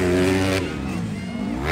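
Motocross motorcycle engine revving loudly and close at a ladies' final heat race in Canocotan, Tagum, a sustained high roar that drops in pitch partway through and climbs again at the end.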